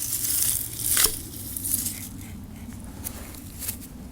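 Loppers cut through tomato plant stems at ground level in a desert garden bed, a crunchy, tearing rustle with one crisp snap early on, heard up close over a low steady background hum.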